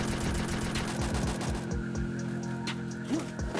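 Rapid automatic gunfire from the mobile shooter game Garena Free Fire rattles loudly in a dense burst, then thins into scattered shots and distant pops over a steady game background.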